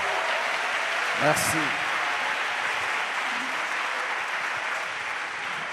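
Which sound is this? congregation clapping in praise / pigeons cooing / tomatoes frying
congregation clapping in praise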